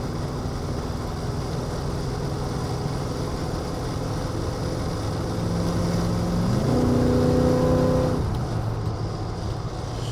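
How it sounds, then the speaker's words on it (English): 1986 Chevrolet K10 Silverado V8 driving and shifting gears, heard from the cab as a steady low engine drone with road noise, its pitch climbing and steadying as the truck pulls through a gear change near the end. "Nice grumbling V8."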